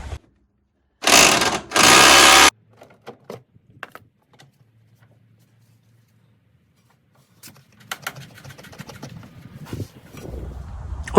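A pneumatic impact wrench loosens front control arm bolts on a Mercedes W124 in a workshop, with two loud back-to-back rattling bursts near the start, then tool handling and scattered clatter.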